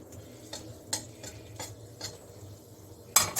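Dried red chillies fry in hot ghee in a kadai and are stirred, with a string of light metal clinks and scrapes over a faint sizzle, ending in a sudden loud clatter.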